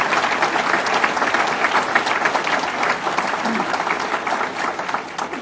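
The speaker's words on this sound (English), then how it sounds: "One more round of applause for Howard Zemsky." Loud, dense, sustained applause from a large crowd for Howard Zemsky at a Buffalo waterfront announcement event, steady throughout with a few cheers mixed in.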